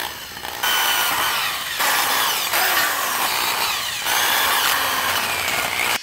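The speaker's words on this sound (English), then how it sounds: "Next, we gotta drill the holes in these sides." Power drill boring holes through the metal sides of a homemade chassis, a loud, continuous high grinding whine close to the microphone, dipping briefly between holes and resuming with no speech.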